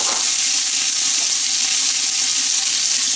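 Bacon fries for coq au vin in a pan on lowered heat, a loud, dense, continuous sizzle that holds steady throughout, close up, with no voices.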